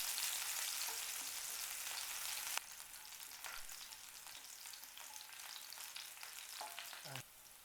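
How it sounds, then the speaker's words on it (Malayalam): Sliced green chillies sauté in a hot pan for a vegetable cutlet, giving a steady close sizzle with a few scrapes and stirs. A louder burst of frying opens the stretch and then settles to a softer, even hiss. "അത് വട്ടത്തിൽ അരിഞ്ഞതും കൂടി ചേർത്തിട്ട് നന്നായിട്ടൊന്ന് വഴറ്റിയെടുക്കുക."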